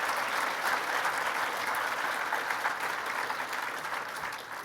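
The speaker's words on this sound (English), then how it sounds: "Let's give one more round of applause collectively for these incredible Student Leadership Award winners." An audience applauds student leadership award winners at a presentation, a sustained even wash of many hands clapping, loud and continuous before fading slightly at the end, with no voices over it.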